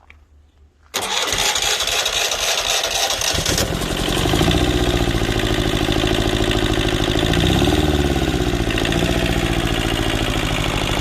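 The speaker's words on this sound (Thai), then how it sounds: "ลองรันอีกสักพักหนึ่งสิอย่าเพิ่งดับเครื่อง รันเครื่องไว้หน่อยเอา" An old Japanese Yanmar two-cylinder diesel engine cranks and catches after a second, then settles into a loud, steady, chugging idle close by.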